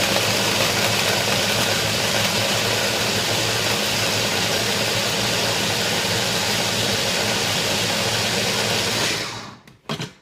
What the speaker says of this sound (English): So I'm going to blend those up and just show you.